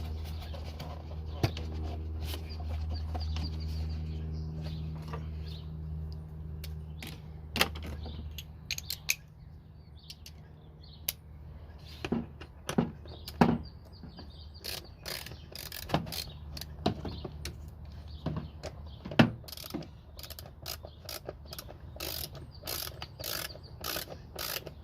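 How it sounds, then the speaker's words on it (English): Toyota Prius air filter being fitted back in place, scattered plastic clicks, creaks and clunks of parts snapping together over a low steady hum, close by and irregular, with no talk. "Throw the filter back on."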